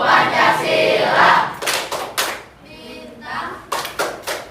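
Group of children clapping in rhythm while chanting together, bursts of claps interleaved with loud shouted voices in the Tepuk Pancasila clapping chant, close and lively.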